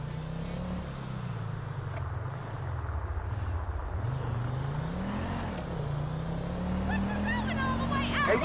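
A car engine in GTA 5 hums steadily throughout, its pitch rising and falling as the driver works through the gears, over wind noise, with voices talking at times.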